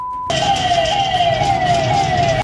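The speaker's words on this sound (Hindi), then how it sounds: "सायरन भी आपको सुनाई दे रहा होगा" A loud police van siren wails continuously with a steady rising-and-falling tone, close by, with low traffic rumble underneath.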